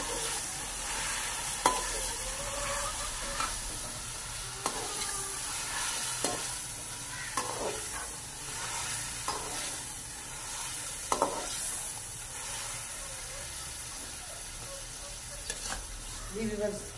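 Tomatoes sizzle and fry in a pan in a village kitchen, with steady crackling under repeated scraping stirs and occasional clinks of the spoon, close and moderately loud.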